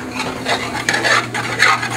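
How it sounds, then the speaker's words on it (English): Flour stirred into butter with softened onions, peppers and fennel to make a roux for lobster mac and cheese: a steady close scraping and rubbing in the pan, continuous for two seconds with no voices. "I'm gonna put in some flour to make the roux."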